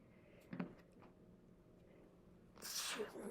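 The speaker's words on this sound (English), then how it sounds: "I'm going to sneeze, sorry." One sharp sneeze bursts out near the end after a quiet stretch with a few faint clicks and small noises.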